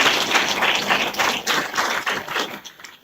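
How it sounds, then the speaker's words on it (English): Audience at a book launch for Professor Tinyiko Maluleke breaking into applause, a steady dense patter of many hands clapping, fairly loud and close, with no voices over it. "Let's give them a warm round of applause."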